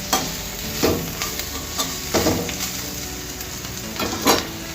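Onion and bitter gourd stir-fry being mixed in a pan: repeated scraping strokes of a spoon against the pan at an uneven rhythm over a soft, continuous sizzle, close and moderately loud.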